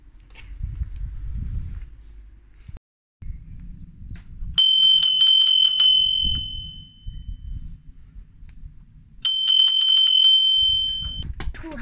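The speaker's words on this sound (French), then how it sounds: "J'ai entendu la cloche." A bright bell rings out twice during an Easter egg hunt, each a loud, sustained, shimmering ring several seconds apart, with low rustling and muffled movement between the rings.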